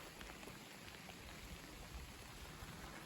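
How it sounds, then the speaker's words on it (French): A light first rain shower falls at night, a steady, even hiss of drops spread across the whole clip, soft and continuous with no voices. "Donc une première petite averse."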